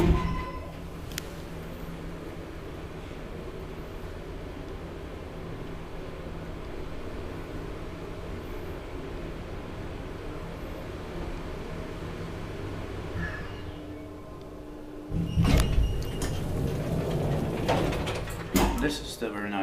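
An old I.G.V. traction elevator in an Espoo apartment building hums steadily with motor and cable drone through a long ride, then its doors slide and clatter with loud mechanical knocks near the end.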